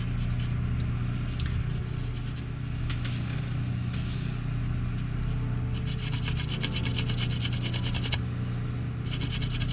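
Seams on a plastic 1979 AMT Star Trek The Motion Picture U.S.S. Enterprise refit model kit are sanded smooth by hand, a steady close rasping rub that continues without break and quickens into faster strokes near the end.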